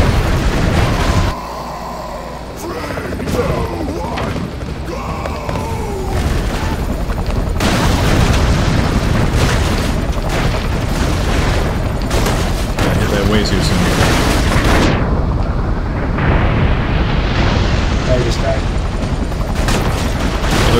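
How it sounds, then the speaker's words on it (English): Repeated explosions and gunfire in the video game Broforce, dense loud booms and bursts throughout with players talking over them. "it wasn't always explosions that kill me"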